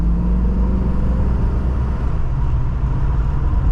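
A 1970 Mercedes-Benz 300SEL 6.3 pulls away in first gear, its big V8 a loud, steady low rumble close by, holding an even drone with a slight pitch shift midway and no one talking.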